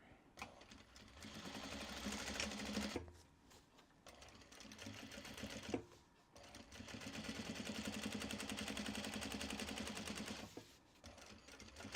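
A sewing machine stitches through interfacing in fast mechanical bursts, running steadily for a few seconds, pausing, then running again, loud and close with no talking.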